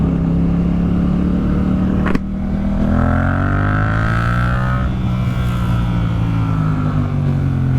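Engine drone fills a car stuck in slow traffic queuing alongside a bus lane, a steady loud hum with a rising revving tone midway, as other vehicles crawl nearby.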